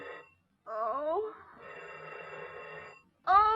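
An old-fashioned telephone bell rings in bursts inside a 1930s screwball comedy scene, with a voice cutting in before and after the rings.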